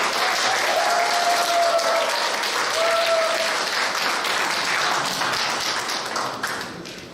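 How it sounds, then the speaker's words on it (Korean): Audience applause at a crypto meetup, a dense steady clapping from a seated crowd that holds at full strength for about six seconds, then begins to thin and fade at the end, with no talk over it. "박수 한번 주세요"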